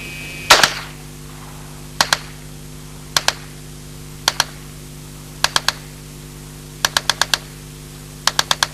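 Automatic fire from a 1977 Alan Halla experimental prototype low-recoil submachine gun, heard as about eight short, sharp bursts of two to four rapid shots each, spaced roughly a second apart against a quiet background.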